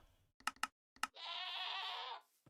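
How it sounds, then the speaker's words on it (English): Screaming goat in the Minecraft video game, a few short clicks followed by one long, loud, harsh bleating scream lasting about a second, heard alone without speech. "this is a screaming goat"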